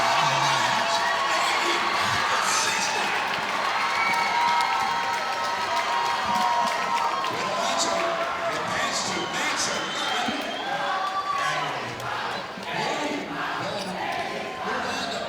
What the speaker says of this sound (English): So they're cheering in the gym here because they know who the winner is.